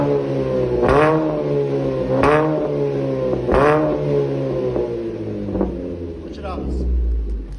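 A car engine revs hard in repeated bursts, its exhaust switched by remote into sport mode, giving a loud, deep roar with several rising throttle blips close up and a steady rumbling idle between them.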